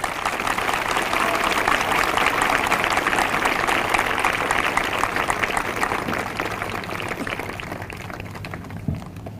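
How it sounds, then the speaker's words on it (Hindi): A church congregation claps together in a sustained, dense wash of applause that holds steady and then gradually fades toward the end, with faint voices underneath. "ये तालियां आपने कितना एक मन होकर बजाई हैं?"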